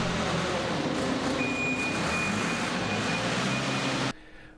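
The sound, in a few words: JCB 3CX backhoe loader shoving barley grain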